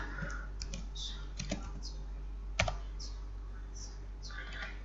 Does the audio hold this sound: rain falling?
no